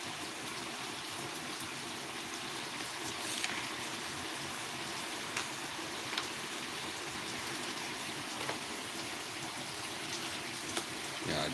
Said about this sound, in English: It's pouring, it's rain,